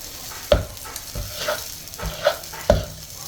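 Dosa batter sizzles softly on a hot tawa as a spoon scrapes and taps against the griddle several times, with clear knocks over a low frying hiss.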